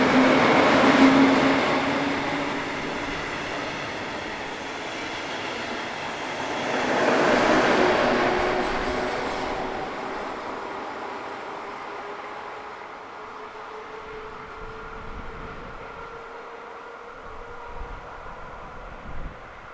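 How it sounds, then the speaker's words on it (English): Heritage electric locomotive 112131 leads train 159 northbound on the service from Trüpplingen to Würzburg, a steady rolling rumble with faint wheel clatter that swells as it passes near, then fades gradually into the distance. "Heritage traction in the form of 112131 leads number 159 as they return northbound with the 1425 Trüpplingen to Würzburg."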